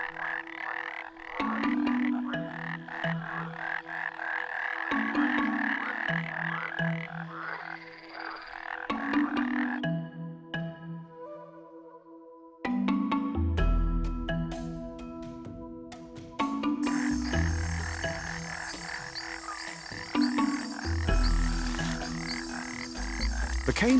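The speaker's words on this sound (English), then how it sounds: "The cane toad is a large terrestrial toad native to South and Central America" A large terrestrial cane toad croaking, heard as repeated pulsing calls that run in rhythmic bursts over a dense layer of background music, with no voices.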